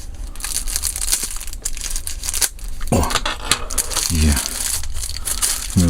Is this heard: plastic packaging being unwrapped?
yes